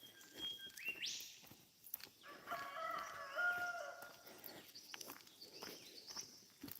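Chickens and roosters on a mountain homestead: a rooster crows clearly amid scattered clucking and squawks from the flock, with light footsteps and outdoor ambience throughout.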